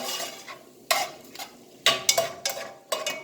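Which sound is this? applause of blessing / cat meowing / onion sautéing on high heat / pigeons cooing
onion sautéing on high heat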